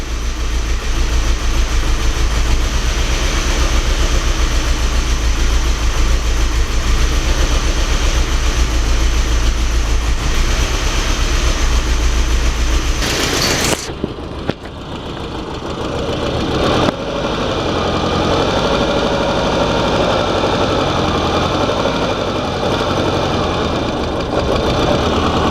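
The engine of a 1994 Saab 9000, on its first start with one cylinder misfiring, runs with a loud, uneven, rough idle. Midway it cuts out abruptly, then a different steady running tone follows.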